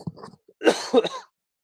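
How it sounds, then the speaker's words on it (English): A single harsh cough bursts out, preceded by some low muffled vocal sounds, then silence follows. "Got a cough that I'm trying to get over."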